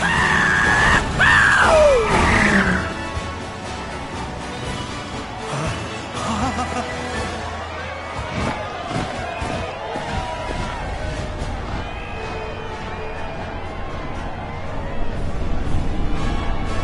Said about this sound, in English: Can you even hear me over this crowd?